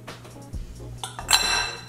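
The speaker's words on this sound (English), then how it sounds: "we're gonna switch this attachment over to a dough hook" Metal clinks and clatters as a stand mixer's beater attachment is swapped for a dough hook, a few brief clanks followed by a brighter ringing clink near the end, close and fairly quiet.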